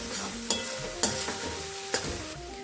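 Stirring cooked rice in a pan for no-onion, no-garlic tomato rice (thakkali sadam): scraping spoon strokes with a few sharper clinks against the pan over a soft steady sizzle, close and clear, no talking.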